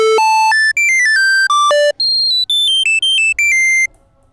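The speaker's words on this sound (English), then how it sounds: "That is a very warm, delightfully hollow sounding square wave." Square wave from a Tom Oberheim Two Voice Pro synthesizer, a run of bright, hollow, buzzy tones stepping up and down in pitch as separate loud notes, then cutting off.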